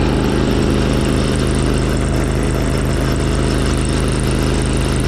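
A Craftsman LT4000 lawn tractor engine runs at about 15 mph, a loud, steady low drone with no change in pitch, heard close and alone.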